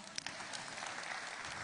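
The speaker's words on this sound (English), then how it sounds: "Yeah, you can clap." Audience clapping at a state government agriculture event, a steady dense patter of applause lasting the whole short stretch, moderately distant and even in level.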